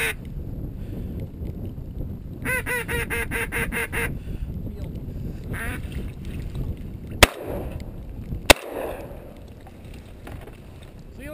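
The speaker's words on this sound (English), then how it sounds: "Here's a bunch of birds." A flock of waterfowl such as teal and spoonbills calls in a Utah salt marsh, with quacking and honking under steady background rumble, a loud burst of calls midway and two sharp sudden bangs near the end.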